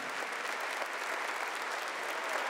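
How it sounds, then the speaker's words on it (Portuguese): A church congregation applauds during a Catholic service led by a priest, with steady, dense clapping that holds throughout, filling the room at an even level with no voices over it. "Pode aplaudir aquilo que a palavra nos garante."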